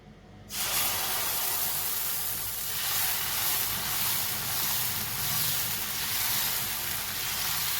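Coconut dosa batter poured onto a hot unoiled tawa, a sudden loud hissing sizzle that starts after a brief quiet moment and holds steady, close and without talk.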